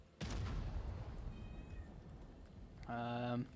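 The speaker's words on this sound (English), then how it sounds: "It looks like my cat is crying like crazy" A house cat cries loudly nearby, a drawn-out meow rising clearly near the end over a noisy backdrop of tank-game gunfire and booms.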